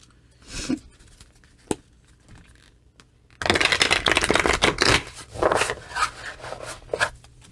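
Tarot cards being shuffled by hand, a soft flutter and a single snap early on, then a dense, loud run of riffling and slapping card noise that continues in bursts to the end.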